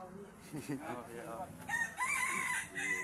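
A rooster crows at a waterfall park in Kanchanaburi, Thailand; the drawn-out crow rises over people talking nearby and carries clearly near the end.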